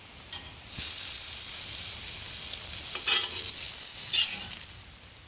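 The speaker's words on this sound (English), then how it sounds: "The cast iron's got enough heat in it to keep the sausages going for a little bit" Johnsonville Vermont maple sausages sizzling in a hot cast iron pan at a lakeside campsite, a steady loud frying hiss that starts abruptly and holds without talk.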